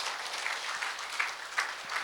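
An audience at a volunteer policy forum in Incheon gives a round of applause after a presentation: steady, dense clapping from a full room that keeps an even level for the whole stretch.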